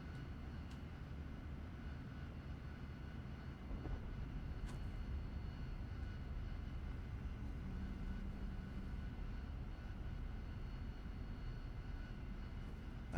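A Harrier jet's engine in the DCS flight game holds a steady low roaring drone with a faint whine, constant and continuous without voices.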